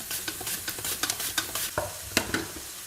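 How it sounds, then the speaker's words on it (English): Chopped onion sizzling in hot oil in a pan, with a soft hiss under a series of sharp scraping and stirring clicks at an irregular pace, close up and fairly quiet, no voices. "oil is hot, we add the onion"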